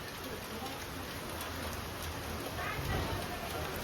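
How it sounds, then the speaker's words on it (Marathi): Steady rain falling during a Bhaubeej Diwali gathering, a dense continuous hiss of drops on surfaces at moderate, even loudness throughout. "भाऊबीच्या टाइमला पाऊस येत होता."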